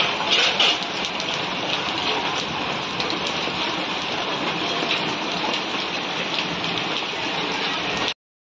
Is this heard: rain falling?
yes